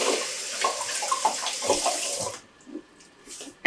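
Rambutan fruit is rinsed under a running tap: close, splashing water flows steadily for about two and a half seconds, then gives way to a few quieter drips and handling sounds.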